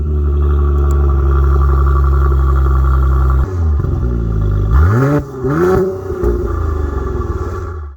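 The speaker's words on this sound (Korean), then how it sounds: "C43 3000cc V6 트윈 터보 바이 터보 엔진입니다." A Mercedes-AMG C43's 3.0-litre twin-turbo V6 holds a loud steady rev, then drops and is blipped up sharply several times, each rise and fall ringing close and clear with no voices.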